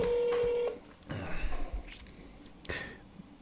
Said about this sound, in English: That's our first phone call on the podcast.